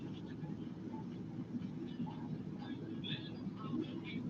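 A steady, low rumbling whir of an N scale model train running along its track, with faint voices murmuring in the background.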